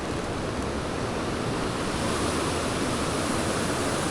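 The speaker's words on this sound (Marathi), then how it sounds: "कसलं खतरनाक पाणी आलं आहे" A swollen Konkan stream rushes after heavy monsoon rain, a loud, dense, continuous roar of churning water that stays steady throughout with no voices.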